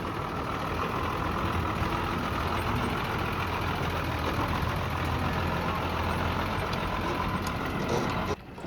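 Lorries carrying elephants pull away, a heavy diesel engine rumbling low and steady at close range, drone continuous throughout before a brief clunk at the end.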